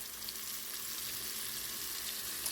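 Shrimp fry in hot grease in a pan, giving a steady, faint, even sizzle with no talk.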